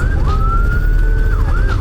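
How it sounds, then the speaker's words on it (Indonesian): An ambulance siren wails steadily through nighttime traffic in Jogja. The tone rises and falls over a heavy low rumble of engines. "Ada ambulan mau dikasih lewat jalan itu."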